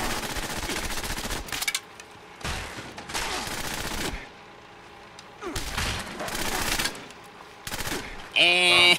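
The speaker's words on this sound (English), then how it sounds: "Stop shooting me with so many bullets!" Rapid automatic gunfire bursts loudly in Fallout 76, coming in several dense volleys separated by short pauses, with a sharp electronic blip at the very end.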